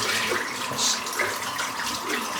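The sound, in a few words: rinsing a shaving brush under running water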